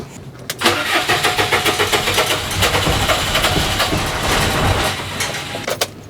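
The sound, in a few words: truck engine cranking, failing to start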